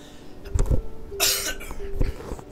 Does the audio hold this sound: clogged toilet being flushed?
no